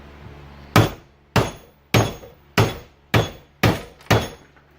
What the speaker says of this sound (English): let me get a bigger hammer